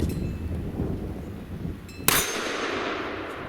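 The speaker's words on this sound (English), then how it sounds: "I've hit that 8-inch gong every time" A .44 Magnum bullet from a Smith and Wesson 329 PD strikes an 8-inch steel gong about 15 yards away, giving one sharp metallic clang with a bright ring that fades over a steady outdoor hiss.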